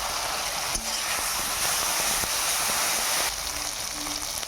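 Spices sizzle steadily in a pan while the masala for a fish curry with potato and drumstick cooks, with a continuous close frying hiss and a few faint clinks of stirring throughout.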